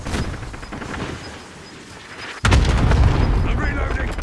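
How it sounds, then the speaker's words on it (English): Video game cluster strike explosions: after a quieter stretch of gunfire and rumble, a loud sudden boom at about 2.4 s gives way to sustained heavy blasting and crackle that runs to the end. "Cluster strike incoming."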